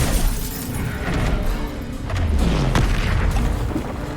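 A spell cast in the Hogwarts Legacy video game, heard as a booming magical burst with a shattering crack, loud and close over a continuous rumbling game background.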